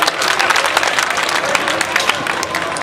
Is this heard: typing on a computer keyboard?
no